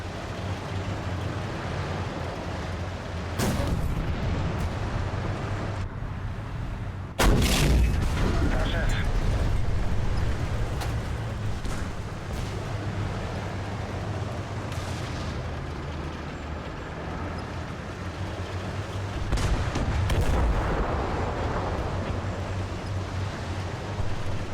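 Tank gunfire in War Thunder battle with a Somua SM, several booming cannon shots and distant rumbling impacts over a steady engine drone, with a voice talking throughout.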